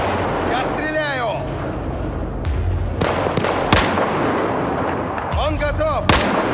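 Gunfire from Battlefield 4's Singapore mission: repeated loud sharp shots and bursts cutting through a dense battle din, with voices talking over the shooting.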